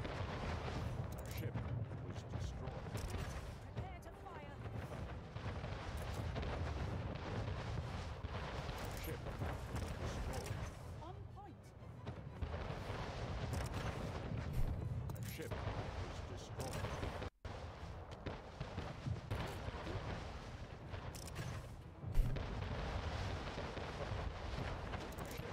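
Ship cannons in the strategy game Anno 1800 keep firing in dense, rumbling volleys under a constant wash of battle noise, with a few sharper bangs standing out.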